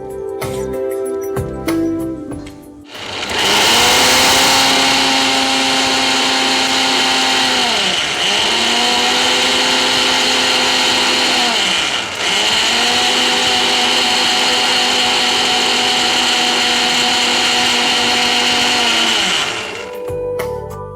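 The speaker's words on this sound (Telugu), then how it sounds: "దీన్ని మిక్సీ పట్టేసుకుందాం." A kitchen mixer grinder blends soaked black and white urad dal with water, roaring loudly and steadily for about seventeen seconds, with brief dips in pitch as the motor momentarily labours, then stopping.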